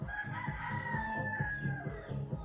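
Roosters crow and hens cluck in a pen of red or brown hens, with a couple of drawn-out crows rising over steady, rhythmic clucking at moderate distance.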